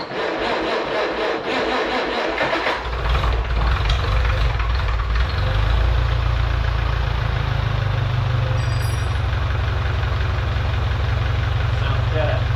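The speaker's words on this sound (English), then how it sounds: "So let's see if this tractor still runs." A Farmall Cub tractor engine cranks for a few seconds, catches with a loud, close rumble, then settles into a steady, throbbing idle.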